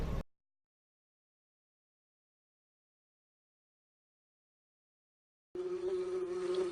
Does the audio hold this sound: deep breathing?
no